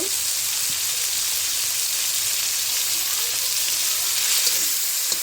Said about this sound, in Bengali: বেশি ভাজবো না একটু রসুন বাটা দিব